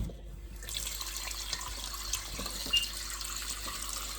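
Tap water runs steadily into a sink while oxtail meat is washed with lime, a quiet continuous hiss with faint splashes, no talking.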